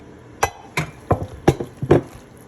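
A utensil mixing baked quinoa pasta with sautéed zucchini in a dish, heard as five sharp clinks and scrapes against the dish spaced about half a second apart, close and fairly loud, with no voices.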